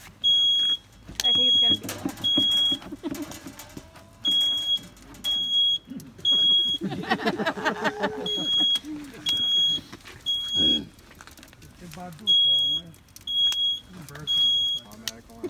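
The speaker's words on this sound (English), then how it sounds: "Automatic alarm." A household smoke detector sounds loudly in repeating groups of three shrill beeps, likely set off by burned food. People talk between and over the beeping.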